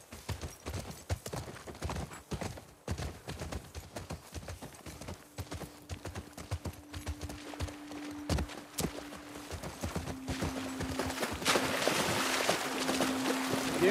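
Horse hooves clip-clop in a steady walking rhythm in The Last of Us Part II on PS5, close and continuous, with a low sustained tone and rising ambient noise toward the end.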